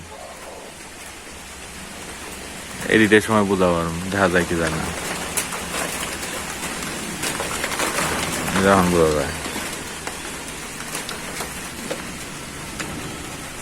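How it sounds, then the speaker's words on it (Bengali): Rain falling steadily in a rural yard, a constant soft hiss of drops on surfaces with someone talking over it for much of the time. "বাকি বৃষ্টি নামতে আছে"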